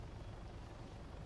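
A helicopter in Arma 3 thrums with a low, rapid rotor beat and steady engine drone, close and continuous through a brief moment of play.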